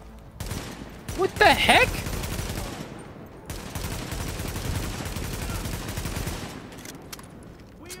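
Sniper and other gunfire ring out in The Division video game during a fight in the Lincoln Tunnel, a loud volley of shots layered under a player's voice and ongoing combat noise.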